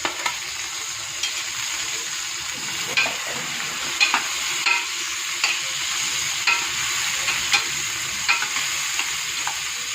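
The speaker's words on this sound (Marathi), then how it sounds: "हे 2 मिनिटं असे परतून घेणार आहे।" Whole spices and tomatoes sautéing in a pan for jeera peas rice, a continuous close sizzle broken by regular light scraping taps of a spoon being stirred through, no voices.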